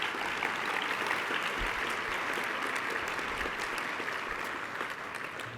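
Steady, sustained applause from an audience at a community health award ceremony, a dense wash of many hands clapping that holds evenly throughout and fades slightly near the end.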